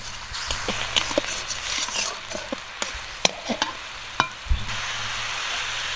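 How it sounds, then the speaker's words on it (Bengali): Crab sautéing in a pan with turmeric, salt and a little water, a low steady sizzle broken by sharp spoon scrapes and clacks against the pan, close up and without voices. "এখন সুন্দর করে কষিয়ে নেবো"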